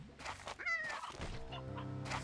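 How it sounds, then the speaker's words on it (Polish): A hen in the video game Slime Rancher 2 gives a few quick clucks, soft and brief, over faint in-game background sound. "Słyszałem kurę, ale chyba została pożarta."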